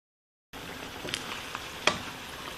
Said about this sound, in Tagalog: kailangan maluto natin yung bagoong